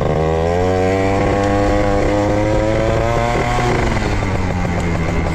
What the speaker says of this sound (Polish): Skuter rozgrzany.